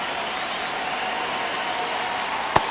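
Baseball stadium crowd cheering at a Blue Jays vs Mariners game, a steady broad roar of many voices that holds level throughout, with one brief sharp clap or crack near the end.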